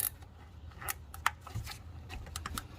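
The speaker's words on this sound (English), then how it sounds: "We're gonna put a zip tie on this guide right here so it will keep the slack tight" A zip tie ratchets tight around a Honda engine's timing chain guide, giving quiet, close, irregular clicks and sharp ticks in short bursts against a low background hum.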